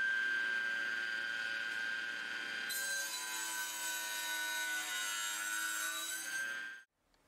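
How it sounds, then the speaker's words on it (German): A small table saw whines steadily through a cut in plexiglass, high-pitched and sustained, rising in intensity partway before stopping abruptly. "säge ich nun mit meiner kleinen Tischkreissäge Plexiglas für die Front zurecht"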